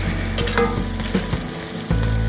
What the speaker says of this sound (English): I'm just going to saute this onion until it is translucent and slightly softened